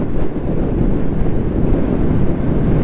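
Strong wind buffets a rider on a Royal Enfield Classic 350 motorcycle, a steady, loud, low roar of gusts filling the whole stretch with no talking.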